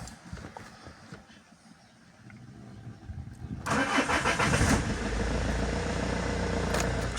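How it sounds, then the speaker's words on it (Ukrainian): A Renault Master van's engine cranks and fires after an immobilizer fault is bypassed with a jumper, starting loud and close, then settling into a steady idle with no talking. "Машина запускається."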